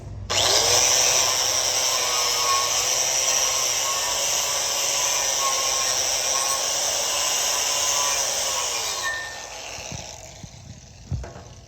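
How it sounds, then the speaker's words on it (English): Angle grinder with a wire wheel cleaning smoke and slag off a stick weld on a 3G certification plate, a loud, steady high-pitched whirring grind for about nine seconds that winds down, followed by a few clanks. "I'm just going to take a wire wheel, kind of clean the smoke and the BBs and stuff off."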